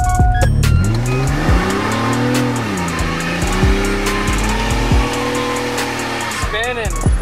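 A Nissan Sentra car accelerates hard, its engine revving loudly with rising and falling pitch as the tires spin and squeal, recorded up close from inside or beside the car, with no clear talking over it.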